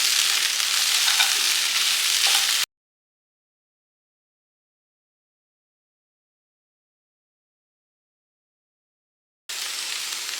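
A Tamil-style vegetable poriyal is cooked and stirred in a pan, producing a steady close sizzle and frying hiss that cuts to silence for several seconds before the sizzling returns.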